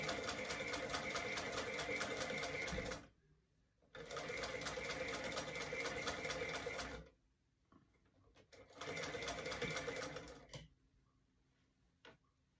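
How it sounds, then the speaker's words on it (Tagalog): Vintage 1859 sewing machine running in three bursts of rapid, even mechanical clatter, each a few seconds long and separated by short quiet pauses, with a faint final tick. "Super vintage na sewing machine."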